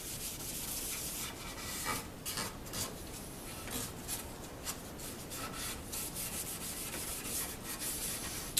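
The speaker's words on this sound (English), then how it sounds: "I sand in somewhat of a teardrop shape, and I sand with 600 to not take off too much" Steady, continuous sanding with 600 grit sandpaper over the finish of a flame-top Telecaster guitar body, a close, even abrasive rubbing with rhythmic strokes and no talk.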